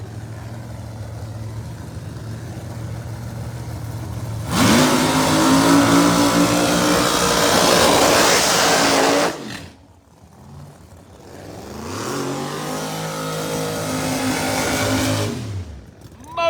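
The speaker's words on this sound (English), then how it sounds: "There's the old Gap Special starting up. Stevie Fast, Bahrain 1 on board. Screw-blown Chevrolet Camaro." A screw-blown Chevrolet Camaro drag car, the Gap Special, starts up at a drag strip test session with a sudden loud engine roar that holds, cuts off briefly, then returns with sweeping revs before falling away.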